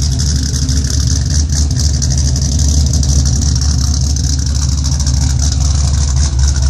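A 2005 Ford Mustang GT V8 fitted with a Comp Cams Mutha Thumpr camshaft and a Bama tune idles loudly up close, a deep continuous lopey rumble with no talking.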